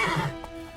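Roach, Geralt's horse in Witcher 3, gives a single short whinny, close and clear, fading into quiet game ambience with a faint snort afterward.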